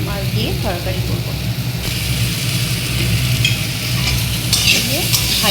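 Hilsa fish frying in a pan for a Bengali curry with brinjal and potato, a steady close sizzle with stirring scrapes throughout, loud and continuous, with some talk at moments.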